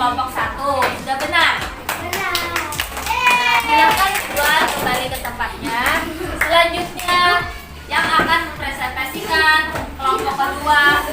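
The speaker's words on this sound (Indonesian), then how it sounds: "kita beri aplaus dulu untuk kelompok 1" A classroom of students claps for a group in a religious studies lesson, with steady, fairly close applause that runs throughout while a teacher and children talk over it.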